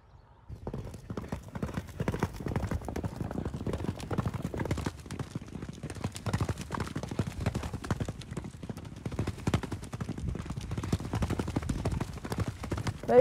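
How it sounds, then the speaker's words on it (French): A racehorse's hooves clip-clop in a steady, rapid rhythm, close and fairly loud, continuing throughout with no speech over them. "Le cheval est beau, il a l'air bien de condition."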